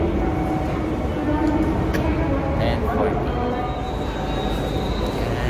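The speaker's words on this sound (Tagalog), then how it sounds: "There's the train." A train arrives at a station in Hokkaido, bound for Otaru, producing a steady rumbling roar with faint squeals. People talk near the microphone over the noise.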